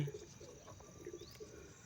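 Pigeon chicks coo softly in low, rolling murmurs, a few faint calls close by in a quiet space.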